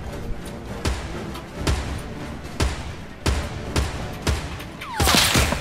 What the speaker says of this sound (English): Whoa, that was a sniper.